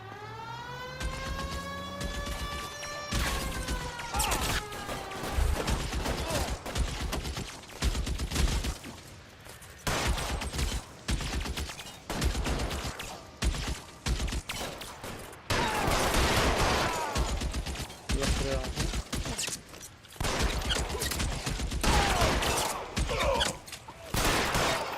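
Rapid gunfire rattles through a car-chase shootout in the video game L.A. Noire, with bursts of shots, engine roar and squealing tires repeating in loud, dense waves.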